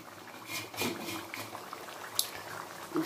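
Fish curry (macher jhol) simmering in a pot, a soft, continuous bubbling with occasional small pops and gurgles, fairly quiet and without speech.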